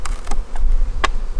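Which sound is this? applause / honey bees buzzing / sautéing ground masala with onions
honey bees buzzing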